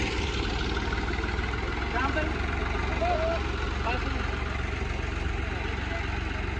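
A Farmtrac 50 tractor idles at a grain market with a steady, loud diesel drone and constant low rumble, heard close up throughout while someone talks over it.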